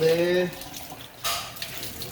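Tap water running into a sink or basin to submerge fish while cooking tinulang tulingan, a steady splashing flow with a brief voice at the start.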